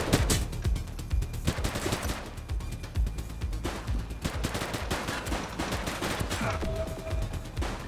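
Police gunfire erupts in the video game The Precinct, a dense exchange of overlapping rifle and pistol shots in irregular bursts, fairly loud amid the noise of a firefight.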